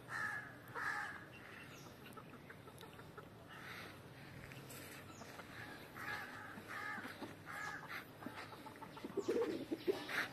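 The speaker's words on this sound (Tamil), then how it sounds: "இது 4 மாதத்து சேவல்" A four-month-old free-range country rooster, fed on fish, calls among other fowl in an open yard: faint, scattered clucks and crowing-like calls over a low background hum, with no talking.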